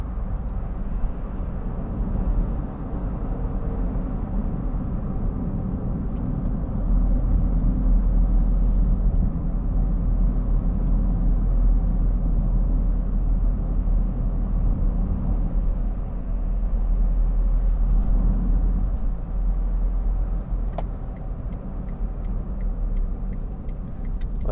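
Interior road noise from a 2013 Smart fortwo 1.0 MHD being driven, a steady low engine and tyre rumble holding throughout with faint ticks and small rattles.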